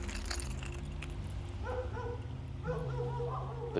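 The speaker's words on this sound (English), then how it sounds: "The dogs are blowing our cover right now." Dogs barking and yipping near an urban pond in the Dallas–Fort Worth area, a busy run of short barks and whines over steady background noise, with no one talking.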